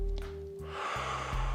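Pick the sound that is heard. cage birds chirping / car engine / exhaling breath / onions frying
exhaling breath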